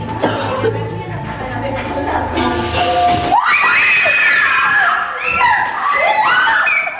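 Several people screaming loudly at close range, preceded by excited chatter and shouting, with high shrieks rising and overlapping in repeated bursts.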